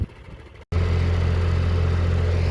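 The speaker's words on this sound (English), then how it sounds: "you can hear that the tractor is revved up really high right now" A tractor drives a post hole auger while planting posts for a deer fence, starting with a brief lower engine sound, then a short gap, then a loud, steady, high-revving drone held close.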